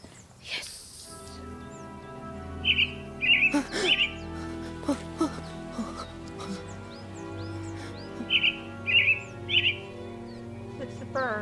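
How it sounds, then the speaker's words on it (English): Short bird chirps and tweets in the video game Alfred Hitchcock's Vertigo, arriving in two clusters of three quick calls over a steady layered game soundscape. "It's a bird."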